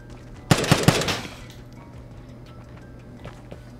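An M2 carbine in the video game Vigor fires three quick single shots in a tight burst, loud and close, followed by quiet.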